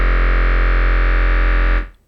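Sustained droning tone from an old 1980s keyboard synth with a long decay setting, holding steady and loud for under two seconds before fading out alone.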